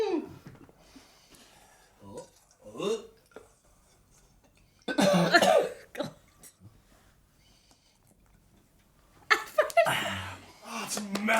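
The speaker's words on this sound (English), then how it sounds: "That was that sausage roll made me cough." A person coughs in several harsh, close bursts after eating a sausage roll, with throat clearing and laughter from others between the fits.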